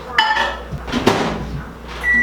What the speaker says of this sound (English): You're gonna preheat them in the microwave before putting them in the pot.